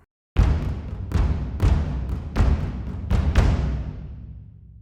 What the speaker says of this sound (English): Let's just listen to the same thing with the stereo Decatree mix.